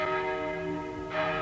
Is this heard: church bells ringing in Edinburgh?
yes